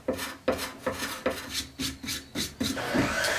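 A hand scraper rasps along a wooden surface, smoothing away tool marks on turned woodwork, in eight steady, close strokes about half a second apart, each a short scratchy pass, with no talk.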